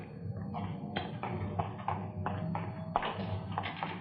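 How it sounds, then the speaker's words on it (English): Radio drama sound effect of a printing press running inside a print shop, a muffled rhythmic series of mechanical thumps and taps, heard as if from just outside. "Sounds like a press, doesn't it?"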